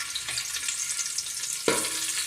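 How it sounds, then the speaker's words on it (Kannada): Cashews and raisins fry in a pan for a sweet dal payasam, giving a continuous soft sizzle close by. One sharper clatter comes partway through, and there is no speech. "ಗೋಡಂಬಿ ಫ್ರೈ ಮಾಡಿದ ಮೇಲೆ ದ್ರಾಕ್ಷಿ ಹಾಕ್ಕೊಳ್ತೀನಿ."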